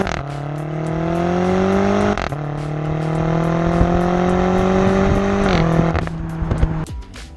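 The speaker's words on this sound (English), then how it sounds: "the X5M comes equipped with the M5's twin-turbo V8, and man does it haul" A 2017 BMW X5M SUV with a twin-turbo V8 accelerates hard nearby, its engine note climbing loudly through two upshifts before easing off at the end.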